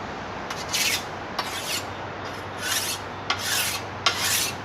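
A tool being sharpened with a hand file, close rasping strokes in a steady series of about five pulls separated by short pauses, with no talking.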